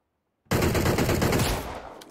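Automatic gunfire in Battlegrounds Mobile India, a single sustained rapid burst that starts abruptly after a short silence, lasts about a second, then tails off.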